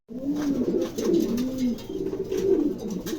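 A pair of pigeons in a showroom coo in low, rolling, throaty bursts, close and clear, repeating across the moment with no speech.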